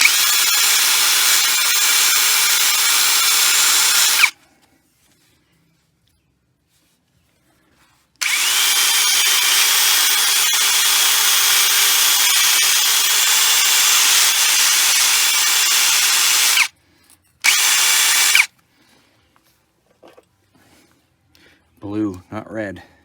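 Brake caliper bolts on a 2015–20 Silverado, GMC Yukon or Escalade being cleaned with a power tool, heard as two long loud steady whirring bursts and a short third one, with quiet gaps and a voice at the end.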